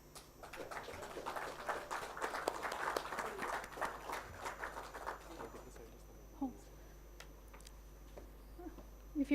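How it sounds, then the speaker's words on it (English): Audience applause at an event in Pune, a crowd clapping steadily for several seconds, then fading out into a quiet room with scattered small noises and faint voices. "Round of applause, please."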